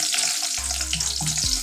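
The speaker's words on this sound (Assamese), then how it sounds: "আৰু ইয়াতে মই একেলগে পটলকেইটা দি দিম।" Pieces of pointed gourd frying together in a wok on a gas stove, a loud, steady sizzle and crackle heard close up without talk.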